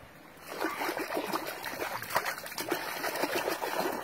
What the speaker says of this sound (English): This is Oregon water.